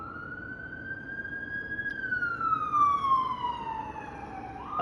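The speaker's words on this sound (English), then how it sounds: "That's an ambulance. It just passed me." An ambulance siren wails past, a steady rising tone that bends downward as it goes by, clear and fairly close over faint road rumble.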